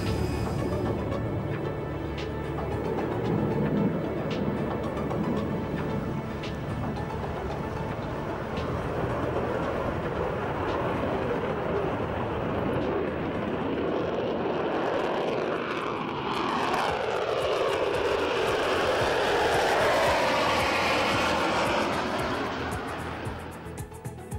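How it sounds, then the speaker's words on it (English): Engines of a Concorde airliner at takeoff. A loud, continuous engine roar builds steadily over about twenty seconds, rising in pitch and intensity before easing slightly at the end. "Cabin crew, 6 for takeoff, please."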